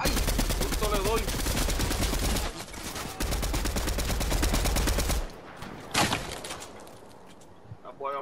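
Gunfire in the video game Fortnite: dense, rapid automatic bursts with sharp repeated reports, pausing briefly before a final volley and a few scattered single shots, with faint voices underneath.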